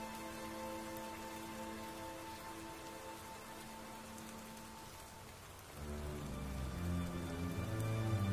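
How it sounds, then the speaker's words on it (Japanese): Steady rain falls on surfaces, a dense continuous patter that holds evenly, then grows heavier and fuller in its last few seconds. "雨が降ってるから。"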